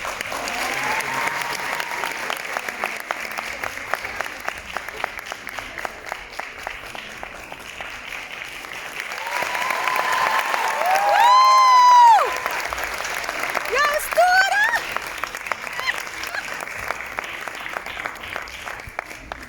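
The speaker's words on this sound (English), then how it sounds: "In giving them another big round of applause for their amazing performances." Sustained audience applause for performers returning to the stage at the closing ceremony of a Korean culture week, swelling in the middle with a few voices and cheers rising above the clapping.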